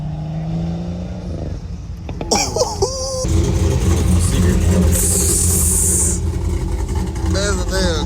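Chevrolet Camaro engine at a car meet, revving loud and close with a sustained roar that swells after a brief lower idle, with people talking over it.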